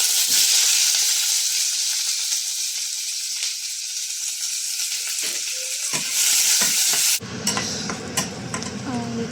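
Crushed garlic, onion and curry leaves frying in oil in which mustard seeds and urad dal have popped, a loud close continuous sizzle that breaks off abruptly near the end into quieter pan clatter.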